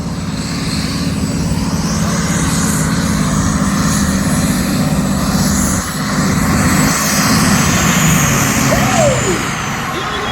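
Tractor engine roaring steadily and loud while hauling a weighted sledge at an outdoor tractor pulling event in Brechin, Scotland, a continuous heavy drone with some faint background voices.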